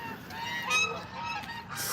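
A snow goose honks in a shared home setting in North Carolina, a loud, repeated series of nasal calls fairly close by with no talk over them.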